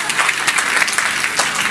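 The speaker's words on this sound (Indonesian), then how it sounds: "kasih tepuk tangan semua." A church congregation claps together in a brief, steady burst of applause, close and fairly loud, with no talk over it.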